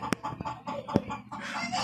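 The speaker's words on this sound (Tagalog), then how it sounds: "Kasi maraming manok" Chickens cluck in short, irregular bursts close by, with a few sharper clucks standing out over a soft background bustle.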